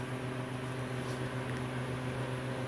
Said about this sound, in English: if you hear the humming in the background, that's my freeze dryer on